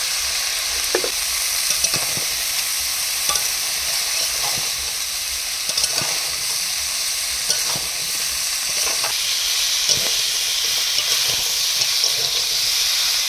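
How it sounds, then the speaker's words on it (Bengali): Chopped Malabar spinach and potatoes are sautéed with salt, turmeric, onion and garlic in a village kitchen. A continuous loud sizzle runs throughout, with repeated scraping stirs of the spatula at an irregular rhythm. "এবার কেটে রাখা পুঁই শাক আর আলু দিয়ে কষিয়ে নেব।"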